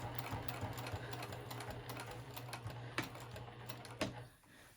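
A sewing machine stitches a lined zipper pouch at a quarter-inch seam, running as a steady, close mechanical whir with a quick back tack and a couple of brief pauses near the end.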